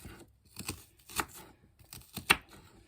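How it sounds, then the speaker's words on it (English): A knife slicing an onion into pieces on a cutting board, a handful of soft, close chopping taps at uneven intervals over quiet background. "I'm gonna take it, turn it over, and just slice it into pieces"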